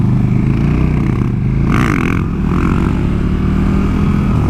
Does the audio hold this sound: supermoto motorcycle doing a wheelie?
yes